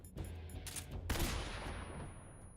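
Gunfire in Metal Gear Solid 3, a couple of close, sharp shots with a louder burst partway through, followed by a decaying noisy tail.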